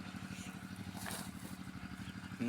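A small engine driving a deep-well water pump chugs steadily, with regular low rhythmic thumps and a faint mechanical rattle, moderately close and without talk.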